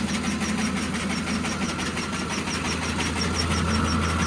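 A grain winnowing machine preparing seed runs at a steady pace, giving a continuous mechanical drone with a rapid rhythmic knocking, loud and close, with no voices.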